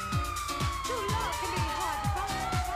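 Ambulance siren in GTA V, a rising-and-falling electronic wail that runs steadily through the whole moment, loud and close, with repeated short low thumps and some game noise mixed in beneath it.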